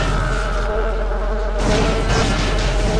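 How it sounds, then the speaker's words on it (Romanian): Mosquitoes buzz in the PC shooter Daikatana, a steady loud insect whine that fills the whole stretch without pause, no speech over it. "Avem și prietenii noștri țânțarii."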